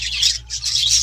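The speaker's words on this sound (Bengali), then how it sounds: "এখানে অনেকগুলো কিন্তু বাচ্চা পাখি আছে" Baby birds in a breeding colony chirp in dense, continuous high-pitched bursts with a brief lull midway, close and fairly loud over a low steady hum.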